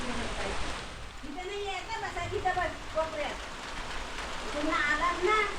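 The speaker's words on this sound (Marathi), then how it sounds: "जोरदार पावस बघा" Heavy rain pattering steadily on surfaces in a Konkan village, a dense, continuous hiss with scattered drop taps, while people talk and laugh nearby through much of it.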